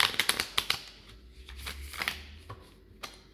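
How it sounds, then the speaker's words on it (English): Tarot cards being shuffled by hand, a series of soft papery riffles and flicks close by, busiest at the start and thinning into sparse taps, with no talking. "I'm going to shuffle the cards"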